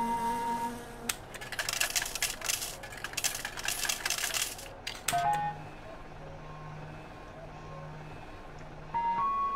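A slot machine being played in My Summer Car at Teimo's shop, with bright clinking, whirring mechanical chatter for a few seconds, then quiet electronic beeps and tones, all at a low level.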